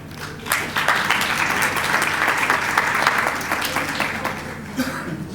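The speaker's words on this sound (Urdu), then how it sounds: "آپ انہیں ان کے لیے بجائے تالیاں" Congregation applauding a newly married couple in church, a dense steady clapping that holds for several seconds at moderate loudness, with faint murmuring beneath.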